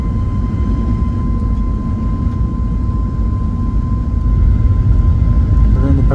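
Airliner engines roaring steadily in a cabin on a night departure from Congonhas airport, São Paulo, a loud continuous drone that swells slightly near the end, with a faint steady tone running through it.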